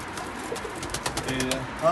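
Pigeons coo in low, throaty murmurs against a busy background, with a brief higher chirp near the end.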